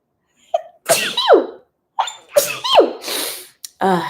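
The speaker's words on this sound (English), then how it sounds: "I think I'm going to sneeze" Several sneezes in a row, loud and close, each with a sharp inhaled lead-in and an explosive burst, with no talking.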